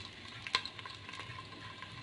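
Chopped onions frying in melted ghee in a pan while preparing Lahori chickpeas, a faint soft sizzle with a sharp clink of utensil against the pan early on and a few quieter stirring scrapes after.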